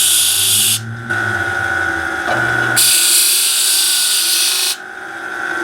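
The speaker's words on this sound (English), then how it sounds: "Now I trim this back. I've got this on a foot switch." A foot-switched power tool whines in loud, steady bursts while trimming the fret overhang on a Larrivee classical guitar during a re-fret, cutting off briefly and then restarting, with no talk.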